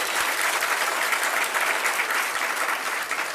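Steady, dense audience applause from a crowd at a spiritual discourse in Jabalpur, a continuous clapping wash that holds at full level for the whole span with no voices over it.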